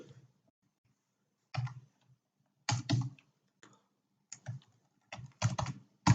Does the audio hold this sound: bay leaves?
no